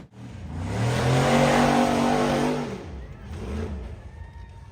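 A gray off-road buggy's engine roars and revs hard as it climbs a steep rocky dirt slope, loud and close for a couple of seconds, then drops away into a quieter idle with faint rattles.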